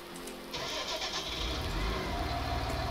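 A tractor engine in the farming game Farming Simulator 19 cranks and catches with a sudden low rumble, then settles into a steady idle close by.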